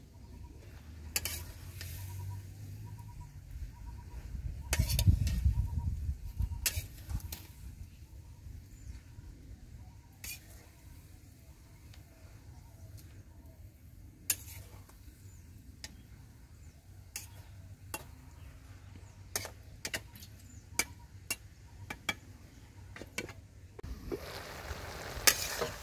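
Dried fish frying in a pan with bottle gourd leaves, a soft steady sizzle underneath while a utensil stirs and taps against the pan in scattered clicks, with a louder scrape near the start.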